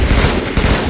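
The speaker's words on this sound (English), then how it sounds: "Someone shooting at me from the top, too." Dense, loud enemy gunfire in a team battle royale video game, a sustained burst of rapid shots packed close together with no talk over it.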